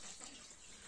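Water poured into a large wide metal plate while melting beeswax, a steady, even gush lasting about a second.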